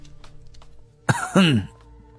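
A single throat clearing in a quiet room, a short rough burst followed by a longer voiced rasp, close and fairly loud over a faint steady background hum.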